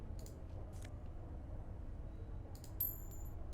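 A faint metallic chink of coins being picked up in the video game Disco Elysium rings briefly near the end over quiet low ambient background hum.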